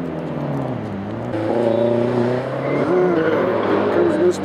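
A race car drives on a track, its engine droning and rising in pitch through gear changes, loud and close with steady harmonic whine.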